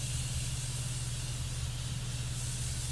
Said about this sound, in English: I'm gonna go in with the Morphe Continuous Setting Spray.